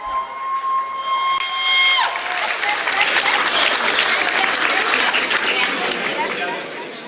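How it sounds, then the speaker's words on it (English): Guests at a party break into loud, sustained applause as a held musical tone cuts off, the clapping joined by cheering and crowd chatter before fading slightly at the end. "Let's have another round of applause for Rajdeep uncle."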